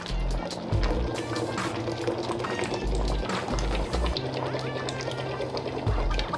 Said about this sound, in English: I'm gonna add about half cup of coconut milk.